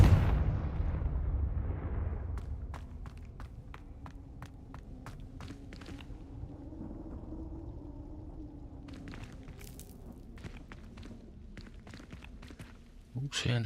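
A Confringo fire spell in Hogwarts Legacy bursts with a loud, booming explosion at the start that rumbles away, followed by quieter rapid footsteps and small clicking game effects.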